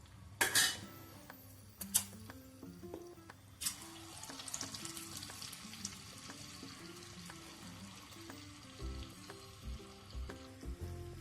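Cabbage manchurian balls deep-fry in oil over a low gas flame with a soft, faint sizzle, broken early by a few sharp kitchen clinks and clatters.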